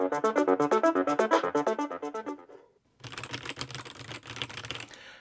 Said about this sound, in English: This is the best keyboard on any laptop I ever tried.